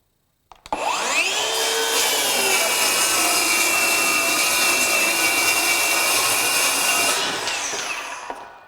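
A battery-powered brushless 7-1/4 inch circular saw spins up and rips steadily through a half-inch OSB sheet, giving a loud, continuous high-pitched whine that holds for several seconds before winding down.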